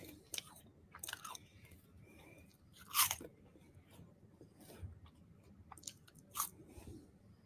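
Crisp, close crunching and chewing of Puffak cheese puffs, with sharp bites and quieter grinding in an irregular rhythm, heard alone at low volume.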